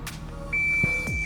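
A single electronic shot timer beep during pistol shooting drills with a 1911 handgun, a thin steady tone starting midway and holding to the end over low background noise.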